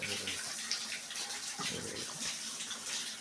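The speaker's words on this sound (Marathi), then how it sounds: "धबधबा येत आहे" A waterfall near a forest cave temple pours steadily, a continuous rushing wash of water heard fairly close and even, with no clear talk over it.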